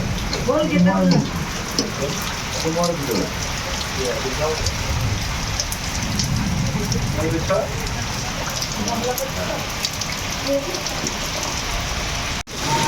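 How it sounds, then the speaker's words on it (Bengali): Heavy rain falls steadily on surfaces around a house during a thunderstorm, a dense continuous patter with a person talking over it before a sudden cut near the end. "প্রচুর বৃষ্টি হচ্ছে এদিকে"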